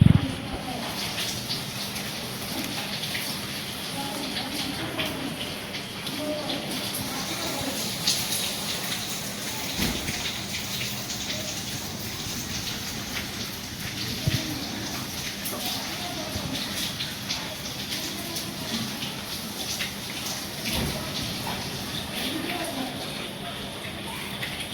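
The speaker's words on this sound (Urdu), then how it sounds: "ماشاءاللہ بارش کا بڑا اچھا لطف آ رہا ہے۔" The season's first rain in Hyderabad falls steadily as a dense, continuous hiss with occasional louder drips and splashes, fairly close, while someone talks over it at times.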